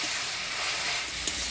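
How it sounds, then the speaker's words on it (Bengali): Red jute greens frying in oil with tempering, green chillies, salt and turmeric, giving off a steady, close hiss of sizzling with no talk. "শাকটা ফোড়নে তেলে ভালো করে ভাজা ভাজা করে নিলাম"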